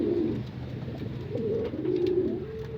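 Racing pigeons, including a pair of hens, coo steadily in a loft, with soft repeated low coos close by and no talking.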